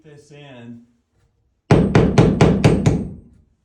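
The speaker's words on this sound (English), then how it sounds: "With my hammer, or your hammer, guys, you can just kind of beat this in" A small hammer taps a RodKat flat shim strip into place, six sharp, evenly spaced metallic strikes ringing close and loud after a brief stretch of speech.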